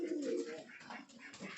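Pigeons cooing in a home pigeon loft where the birds sit on eggs, soft low throaty coos close by, brief and faint.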